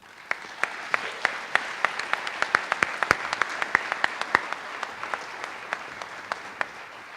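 Applause from the audience at the 2017 Lakewood Police awards ceremony: a modest crowd's sparse, distinct individual claps that rise and then thin out over a soft room background.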